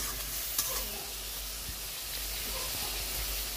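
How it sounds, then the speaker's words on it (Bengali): Sweet pumpkin curry with onion, garlic, ginger and garam masala sizzles in a pan on the stove, a faint, steady frying hiss with a few soft stirring clicks and no voices. "আর এই তো আমি এখন মিষ্টি কুমড়ার তরকারিটা বসিয়ে দিয়েছি"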